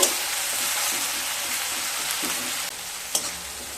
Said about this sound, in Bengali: পেঁয়াজ আর রসুনকে খুব ভালোভাবে ভেজে নেব।